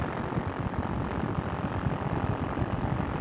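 Ultralight aircraft engine held steady at 4,000 RPM in flight, a continuous loud droning buzz with rough propeller pulsing and wind noise, no voices.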